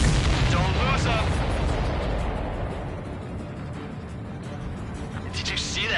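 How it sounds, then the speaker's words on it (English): Explosion in the combat flight game Ace Combat 7: Skies Unknown, a loud booming burst at the start that decays into a long rumbling roar, with a second brighter blast near the end; no talk. "Did you see that explosion?"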